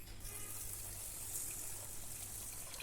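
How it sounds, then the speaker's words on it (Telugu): Water pours into a bowl of basmati rice for washing, a faint, continuous gushing splash heard alone at low volume. "ఈ రైస్ని బౌల్లో వేసుకుని కొద్దిగా నీళ్ళు పోసి కడుగుతాము"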